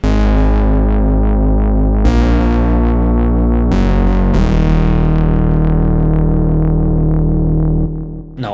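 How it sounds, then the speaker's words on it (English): A Repro-5 synthesizer plays sustained chords through distortion and delay effects, loud buzzy tones with a few sharp chord changes and echoing tails, ending abruptly. "it has pretty nice effects, including a distortion, delay,"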